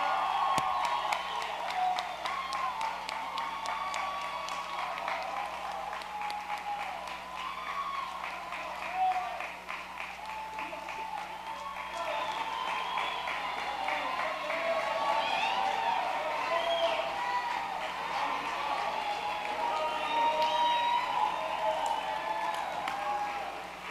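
Audience applause for National Honor Society members at a school ceremony, continuous crowd clapping mixed with cheers and occasional whoops, heard alongside chatter and talk throughout.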